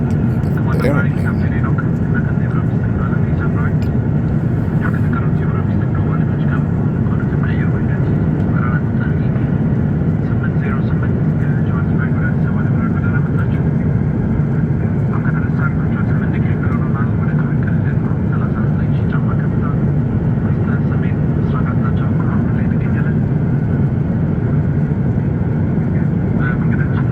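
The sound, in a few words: airplane engine noise heard from inside the aircraft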